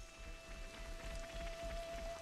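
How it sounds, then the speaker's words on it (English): Rain falls steadily in the Xenoblade Chronicles 3 video game, a soft continuous hiss of drops on surfaces with a faint steady tone underneath, quiet and even throughout. "It just started raining, I'm assuming."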